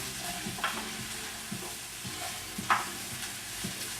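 Peppers sautéing in olive oil seasoned with salt and pepper, a low steady sizzle broken by a few soft scraping stirs of a utensil in the pan, quiet and close.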